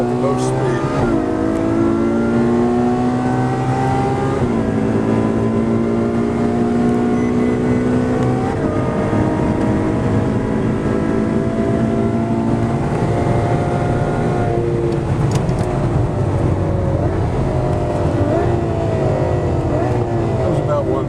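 A race car runs at speed around the Circuit of the Americas track. The engine roars loudly and continuously for about twenty seconds, rising in pitch through each gear and dropping with repeated upshifts and downshifts.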